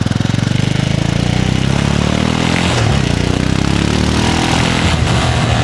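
A motorcycle engine idles close and loud just after a cold start, holding a steady, rapid mechanical pulse with light clatter throughout.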